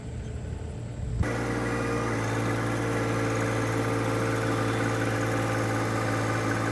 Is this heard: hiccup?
no